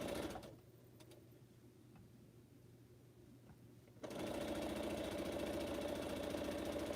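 Close up, a sewing machine stitches pineapple quilt blocks, first a quieter stretch with faint ticks, then a steady, loud run of continuous stitching for the final few seconds.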